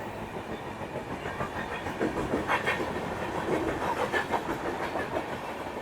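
A train rolls steadily over a railway line above a tunnel shrine in Tirupati, its wheels keeping up a continuous rumble and rhythmic clickety-clack at moderate distance.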